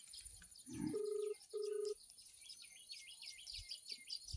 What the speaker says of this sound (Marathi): इकडे तर कोणच दिसत नाही आता ऋतिकाला फोन करते जरा